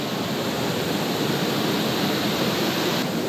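A roaring waterfall at Jajce in Bosnia and Herzegovina, a steady, loud broadband rush of falling water that stays constant throughout with no other sounds.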